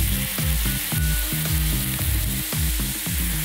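Beer is poured into a hot pan to deglaze the browned bits left from cooking a stuffed pork chop, producing a loud, continuous sizzle with rhythmic bubbling throughout.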